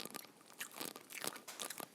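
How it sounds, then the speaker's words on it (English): Close, quiet crunching as a few BBQ-spiced roasted pumpkin seeds are bitten and chewed, a string of crisp cracks with no talk. "Do you hear that crunch?"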